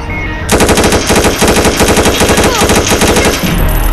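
Rapid automatic gunfire from Minecraft rattles in one loud, continuous burst lasting about three seconds, then cuts off abruptly.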